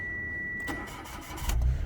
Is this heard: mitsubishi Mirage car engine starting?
yes